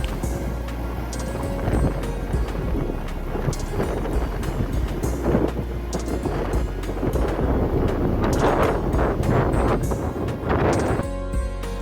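Strong, cold wind on the bank of the Gandaki river in Nepal, roaring and buffeting the microphone in steady gusts with a deep rumble throughout. No one speaks.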